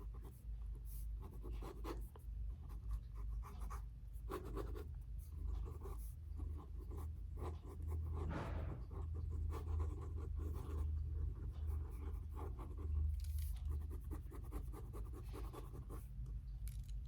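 A pencil drawing a quick portrait sketch on paper, soft and close, with continuous light scratching strokes in short bursts over a low background hum, and no talking.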